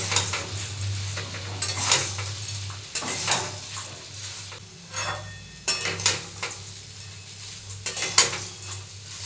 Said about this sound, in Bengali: ভালোভাবে সাবুদানাটা তেলের সাথে ভেজে নেব।